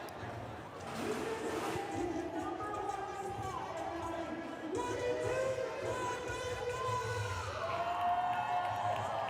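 A rodeo crowd at Essentia Health Plaza cheers after a bull ride. Broad, steady roaring and whooping fills the whole stretch, with an announcer talking over it.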